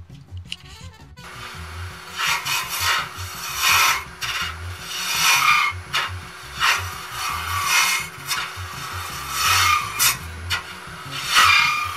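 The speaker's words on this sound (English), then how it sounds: "now let's go about hollowing out the inside." A tool scrapes and rasps inside a segmented wood bowl as it is hollowed out, a close, continuous rough rubbing that swells and fades in repeated passes over a low mechanical hum.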